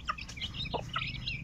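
Native country chickens, a flock of roosters, hens and chicks kept for sale on a small farm, clucking and calling in short close bursts, with no talk.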